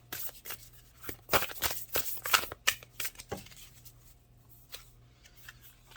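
Tarot cards riffled and slapped during a shuffle, a burst of quick crisp flutters and taps close up, then softer sliding and a few single card flicks as one is drawn.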